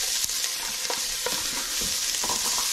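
Onions fry in a tablespoon or so of olive oil, a continuous close sizzle broken by scattered stirring scrapes and taps.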